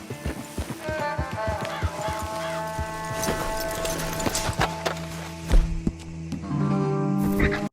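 Horses in the Western video game Red Dead Redemption, with steady hoof clip-clops and snorting, some faint bird calls, and a brief neigh, all close and fairly loud throughout.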